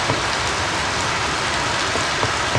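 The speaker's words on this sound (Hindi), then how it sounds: "ओए बारिश हो गई" Steady, dense rain falling in a survival and craft video game, a continuous loud hiss with no gaps or other sounds across the whole stretch.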